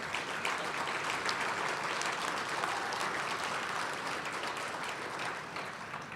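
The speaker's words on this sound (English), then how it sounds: "that round of applause that you all deserved" Dense, sustained applause from a large audience at a legal services anniversary event, loud and continuous with no talking over it.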